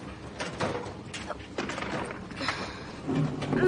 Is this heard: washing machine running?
yes